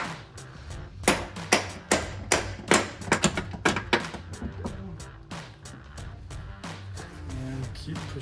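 A run of sharp metallic hammer taps driving a bolt into a Toyota Tacoma front upper control arm, quick and uneven, striking repeatedly before easing into quieter knocks against a low background rumble.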